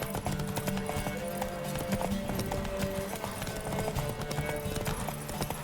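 Roach the horse trotting in The Witcher 3 video game, a steady clip-clop of hooves with the odd whinny over a dense, busy game soundscape that runs the full length.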